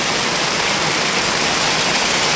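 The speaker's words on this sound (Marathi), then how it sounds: "जो रात्रीपासून पाऊस पडतो आहे तुफान" Heavy monsoon rain pours steadily in Nalasopara near Mumbai, a dense, unbroken hiss of downpour close by with no pauses and no voices.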